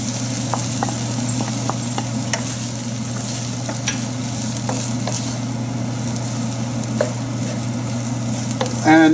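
Paneer gets stirred into a cooking mixture in a pan on a gas stove that has just been switched off. A spoon scrapes in scattered clicks over a steady low hum and faint residual sizzle, with no talking.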